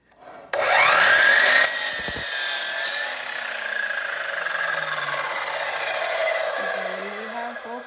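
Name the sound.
saw cutting a 2x4 wood board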